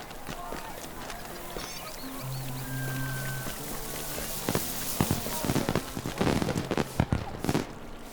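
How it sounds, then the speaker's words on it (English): Fireworks pop and crackle in a Lord of the Rings Online town scene, a rapid cluster of sharp bursts growing louder toward the end, over ambient game music and background chatter. "Someone's letting off some fireworks."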